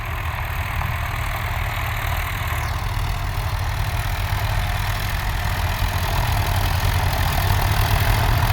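A steady low tractor engine drone runs throughout, idling evenly with a constant mid-low rumble and no voices.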